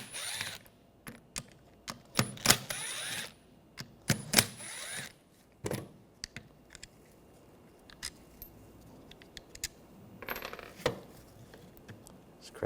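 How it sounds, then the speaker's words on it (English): A T20 socket works on the window regulator motor screws of a 2009-2013 BMW 328i xDrive, giving quiet, scattered metallic clicks, taps and small clinks up close, with no talking. "Take these screws out."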